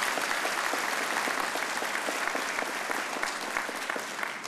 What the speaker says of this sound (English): Let's give these men and women a great round of applause